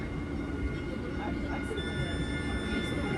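A Caltrain passenger train rolls by close at hand, a steady loud rumble of wheels on rail with faint squeals running throughout.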